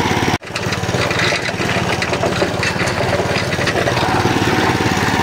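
MTZ walk-behind tractor engine running loud and steady at close range while dragging wooden posts toward a shed, a continuous rattling drone with a brief dropout near the start.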